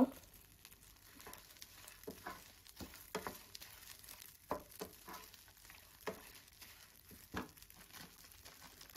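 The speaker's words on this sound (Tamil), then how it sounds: "இப்போதான் மலை இட்லி பொடிக்கு எல்லாமே வறுத்தாச்சு" Idli podi ingredients dry roasting in a pan, with faint scattered crackles and soft scraping stirs at an irregular rhythm, quiet and close.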